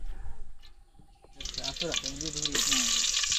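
Green chillies dropped into hot oil in an outdoor village cooking pot, giving a bright, steady sizzle that swells louder after a quiet start, with stirring and clinks close by.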